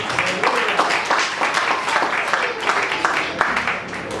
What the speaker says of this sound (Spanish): Dele un aplauso fuerte